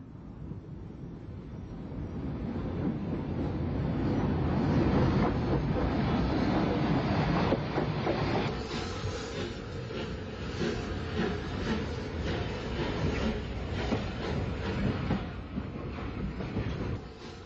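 Rebuilt Bulleid Pacific steam locomotive No. 34012 Launceston hauling the Folkestone portion of the Man of Kent passenger train in Kent, a loud, steady rumbling roar with rhythmic clatter of carriages running close by throughout.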